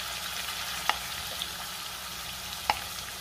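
Masala paste with Kashmiri red chilli powder and chopped coriander sautéing in hot oil for shev bhaji, a steady soft frying hiss with a couple of sharp spoon clicks against the pan.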